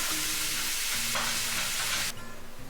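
Ground beef fries with garlic in a pan, a loud close continuous sizzle that drops abruptly near the end into a quieter hiss, with no talking.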